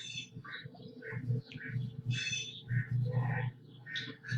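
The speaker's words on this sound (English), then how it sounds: "You can hear a duck over there." Birds calling in a backyard, including a duck, with overlapping chirps and coos rising and falling close by over a low background hum.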